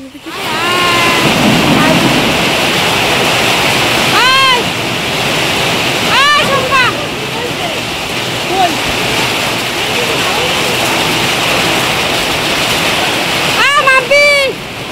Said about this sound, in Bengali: ঝড় চলে আসলো রে, ঝড়।